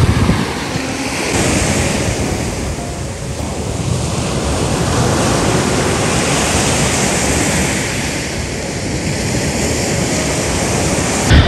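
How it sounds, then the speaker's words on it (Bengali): Sea waves roll onto Terrigal beach in calm, windless weather, heard close by as a loud, continuous wash of surf that swells and recedes throughout, with no voices. "তারপরে কিন্তু বেশ ভালোই ঢেউ আছে সমুদ্রে"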